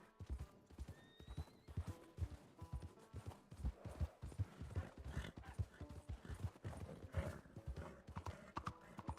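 Horse hooves clip-clopping in the Red Dead Redemption roleplay video game, a brisk uneven rhythm of close hoofbeats with occasional whinnies, steady and alone for several seconds.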